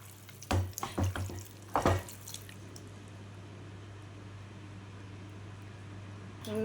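Spoon stirring a chicken curry with cinnamon, cloves and coriander in a pot, two short scraping, wet clatters near the start, then a low steady hum and quiet background.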